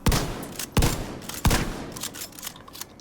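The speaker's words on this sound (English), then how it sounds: "So if I swap to my shotgun, I'm going to keep aiming down sights and go straight into firing." Three heavy, booming M870 shotgun blasts in The Division 2, fired in quick succession after a weapon swap, each with a sharp attack and short decay, followed by a few lighter rapid shots.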